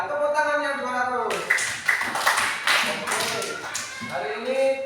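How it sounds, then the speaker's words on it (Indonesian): Pupils in a classroom clap their hands in a short burst of sharp, uneven claps, with a voice speaking before and after the clapping. "Ya tepuk tangan yang 200."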